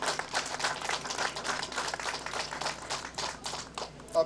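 An audience at Berwyn, Illinois' National Night Out 2012 community event breaks into sustained applause, a dense, steady patter of many hands clapping at once that holds for several seconds without talk.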